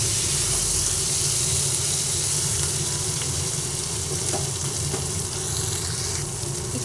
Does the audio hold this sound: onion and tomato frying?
yes